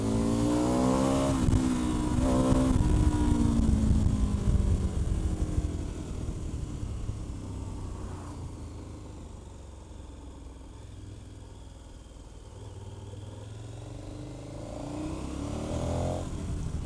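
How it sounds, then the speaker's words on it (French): KTM 1290 Super Adventure, 160 hp, ridden: engine revs loudly in rising surges at first, then settles into a steadier, quieter hum with wind rush before building again. "C'est un régal de rouler avec cette bécane."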